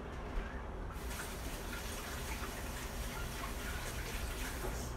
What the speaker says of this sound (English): just had to rinse the egg off my hands